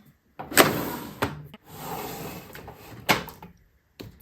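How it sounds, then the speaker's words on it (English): A makeup storage drawer slides open with a few short knocks and a soft rolling scrape, close by and fairly quiet, ending with a brief tap. "let me open up another drawer and see what we can find here."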